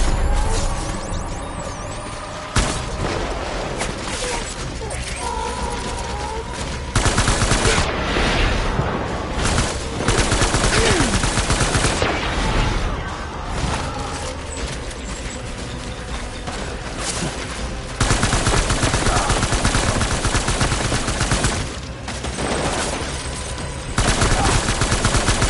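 Sustained gunfire in the Death Stranding video game: loud, dense bursts of automatic weapon fire and repeated shots over a long stretch, with mechanical clatter between volleys.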